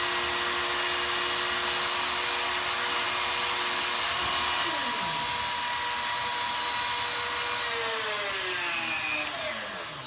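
A Texas Tool Store rotary tool spins at maximum speed, a loud, steady high-pitched whine with layered harmonic tones that dip and shift in pitch partway through, close up and continuous.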